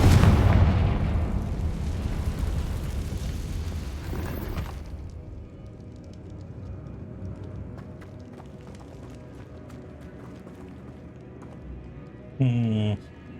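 Confringo, an explosive fire spell in Hogwarts Legacy, opening with a loud, deep blast that rumbles and fades over several seconds, followed by quieter game ambience and a short tonal effect near the end.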